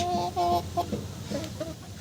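Four-month-old Koyla chickens cluck in a farm shed after rain, several close, repeated clucks in short bursts with some softer calls toward the end.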